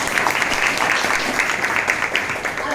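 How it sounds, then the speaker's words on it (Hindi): Audience applause at an awareness event against child marriage, a sustained, moderately loud clatter of many people clapping together. "है तो ताली बजनी चाहिए।"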